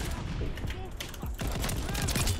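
Rapid shotgun fire in the World War II shooter Call of Duty: Vanguard, during Domination on the Red Star map: a dense run of loud, repeated blasts close up, with a brief dip midway before the firing resumes.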